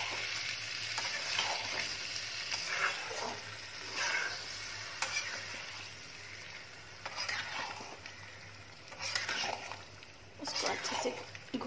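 Paneer curry with added water being stirred and fried in a pan, a soft continuous sizzle with periodic stirring scrapes, fairly quiet and close.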